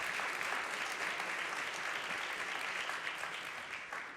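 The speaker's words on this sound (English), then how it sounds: "please give him a round of applause," A conference-room audience applauds a panel member in a steady, dense wash of clapping that holds evenly and tapers slightly toward the end, with no voices over it.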